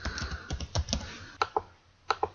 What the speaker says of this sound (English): So let's type in beekeeping